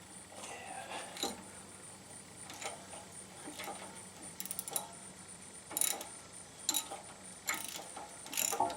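Repeated short clicking bursts of a ratchet turning a 10mm six-point deep-well socket while replacing struts on a 1997 Suzuki Sidekick, fairly faint and irregular, with no talking.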